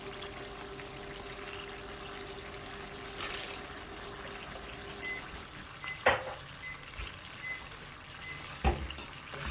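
Canned ground beef with seasoned pepper, seasoned salt and Watkins seasoning cooks down in a pan, giving a steady close sizzle with a few sharp clinks and scrapes of a utensil.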